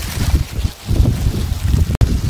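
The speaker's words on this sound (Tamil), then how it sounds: "காற்று பயங்கரமாக அடிக்குது." Strong wind buffets a foggy hilltop in Vagamon, roaring in loud, uneven gusts close against the microphone with brief lulls between them.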